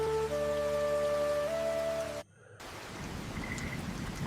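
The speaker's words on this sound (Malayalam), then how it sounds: "ഇന്നും നല്ല മഴയാണ്." Heavy rain falls in a steady hiss, with tonal music over the first half that cuts to a brief silence before the rain-like wash returns alone, fairly faint.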